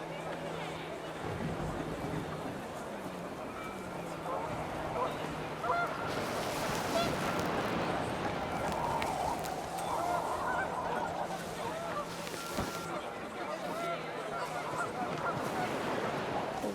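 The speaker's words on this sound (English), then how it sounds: "The wind picked up, and panicked geese appeared and quickly went." Panicked geese honk in a frantic, overlapping flock in What Remains of Edith Finch, the cries rising and rushing past over a steady bed of gusting wind.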